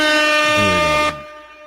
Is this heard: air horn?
yes